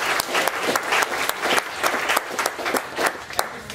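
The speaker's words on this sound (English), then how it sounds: "please give a first round of applause to our speakers" An audience at an Effective Altruism for Animals panel event applauds the speakers, a dense, steady round of clapping from a medium-sized crowd throughout.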